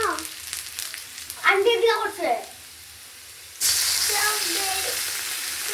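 Chopped ginger frying in a pan while preparing puffed rice (muri) fry, a close sizzle with stirring scrapes, then a louder burst of hissing frying as more goes in, with a voice talking underneath.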